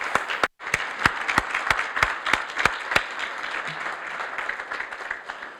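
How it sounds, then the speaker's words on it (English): Audience applause at a public community event in Twin Falls, Idaho: brisk crowd clapping with sharp individual claps standing out, steady at first, then thinning. "Please give them a quick round of applause as well."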